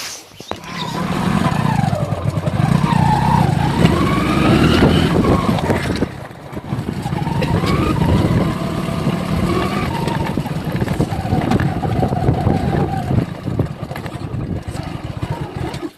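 A motorbike engine revving and running steadily as it rides, pitch rising and falling with throttle changes, with a brief dip midway.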